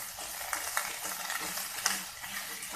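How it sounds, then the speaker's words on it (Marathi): Sweet corn kernels sauté in a pan for spicy corn chaat, a continuous close sizzle with rhythmic scraping stirs and light knocks of the spoon, no one speaking. "आता लगेचच आपण कॉर्नचे दाणे घालून घेऊया आणि तेही 2 मिनिटं आपण छान परतून घेऊया"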